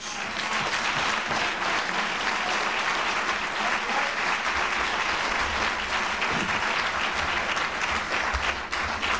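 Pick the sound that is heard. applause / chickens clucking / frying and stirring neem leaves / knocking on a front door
applause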